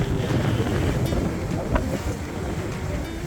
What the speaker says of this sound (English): today's pretty windy day. We're on a ferry, a barge, and we're going to Silk Island